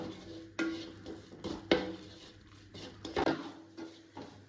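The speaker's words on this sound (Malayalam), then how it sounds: "നന്നായിട്ട് യോജിപ്പിച്ച് കൊടുക്കാം കേട്ടോ" Kothu porotta masala stirred and mixed in a pan, with a low sizzle under intermittent metal spoon scrapes and clinks against the pan, close and moderately loud.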